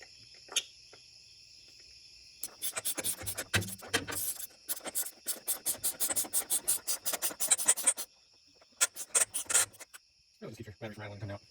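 A loose battery in a 2005 Ford Freestar with the 4.2L engine rattles and scrapes as it is worked out of its tray, bursts of close, busy clattering with short pauses between them.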